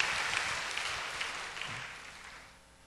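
A church congregation at a Sunday service in Mokpo claps together in a dense, steady wash of applause that gradually fades toward the end, with no voices over it.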